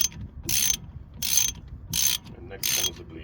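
A ratchet tightens the front brake caliper bolts, fitted with new washers, on a Land Rover Freelander 1 (L314). Four evenly spaced bursts of rapid close-up clicking are separated by short pauses.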